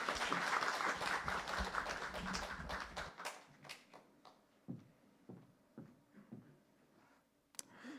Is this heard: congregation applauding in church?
yes